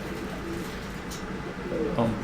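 Racing pigeons coo close by, soft throaty calls repeating over a constant hiss of background noise, with low talk partly mixed in.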